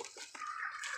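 A farmyard chicken clucking, a few short calls over a faint steady background, quiet and somewhat distant, with no talk.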